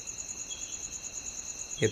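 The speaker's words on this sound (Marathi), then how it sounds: "रात्र झाले आणि रातकिड्यांचा मस्त आवाज येतोय" Crickets chirp at night outside a village home, a steady high-pitched trilling that continues faintly throughout, with a short bump of another noise at the very end.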